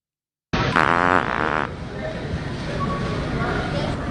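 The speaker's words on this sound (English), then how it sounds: "He sells a fart machine." A fart machine lets out a loud, close, rumbling fart lasting about a second after brief silence, then a steady low noise continues.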